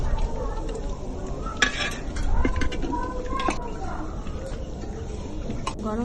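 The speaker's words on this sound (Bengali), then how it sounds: "এই যে মাংসটার এখানে পেঁয়াজ বেরেস্তা করা হচ্ছে।" Onions frying to birista for meat in a pot at a rooftop picnic, with steady sizzling hiss and occasional metal clatters of stirring and utensils, while people talk nearby.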